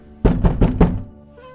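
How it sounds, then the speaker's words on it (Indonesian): A man pounds on a door with four heavy, evenly spaced knocks in quick succession, loud and close, followed by a brief quiet tail with no talking. "mereka diganggu dengan suara seorang pria yang gedar-gedor pintu"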